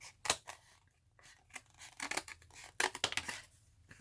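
Scissors cut and snip through cardboard packaging flaps in quick, close, crisp bursts with small pauses between the cuts, and rustles of handling fill the gaps.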